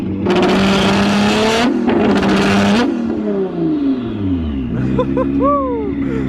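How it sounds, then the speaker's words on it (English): A car with an extremely loud aftermarket exhaust system revs hard twice in long roaring bursts, then the engine drops and settles into a rumbling idle with a few higher whines close by. "That is one of the craziest exhaust systems I've heard."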